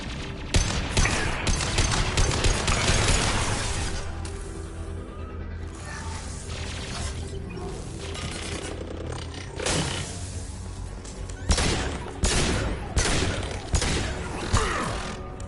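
Turret gunfire in the Mass Effect 2 video game comes as loud bursts of rapid shots with mechanical clanks and crashing impacts. The bursts start and stop over a constant hum.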